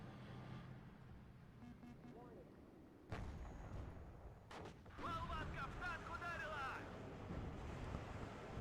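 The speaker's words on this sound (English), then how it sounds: "Rockets flying overhead." Rockets streaking overhead in a military video game battle between tanks, faint rumbling background broken by sharp whooshing blasts near the three- and five-second marks.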